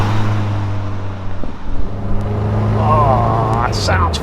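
A Ford Escort RS conversion engine hums steadily at idle and low revs, then the pitch climbs as it revs up toward a howl near the end, heard at moderate level from close by.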